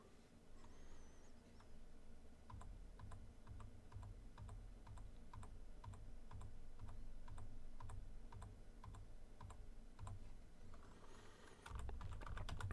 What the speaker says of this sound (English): I'm going to be silent for a minute while I type that in.